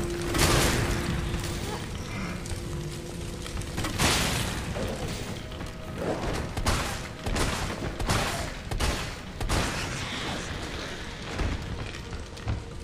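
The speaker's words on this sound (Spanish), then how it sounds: "Tres balazos de escopeta te llevaste." Loud, booming shotgun blasts in the video game Resident Evil 3 Remake, several heavy blasts in quick succession over constant background noise.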